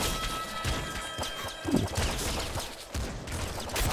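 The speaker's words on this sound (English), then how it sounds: "I'm killing things with guns" Shotgun blasts in the top-down shooter Nuclear Throne, a dense run of sharp, crunchy bangs and impacts layered over busy game sound and music, loud and close with no talking.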